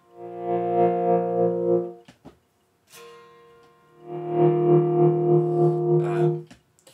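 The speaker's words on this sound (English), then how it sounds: "So there you go, that's tremolo, overdrive" Distorted electric guitar chords pulse with a rhythmic tremolo wobble, two sustained phrases separated by a short pause with a few muted string noises.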